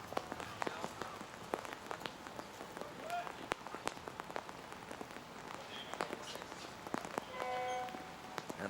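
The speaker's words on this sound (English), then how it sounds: "a steady rain continues to fall here in Japan" Steady rain pattering on surfaces at an outdoor archery venue in Japan, a constant soft hiss dotted with scattered drops and faint taps, fairly quiet throughout.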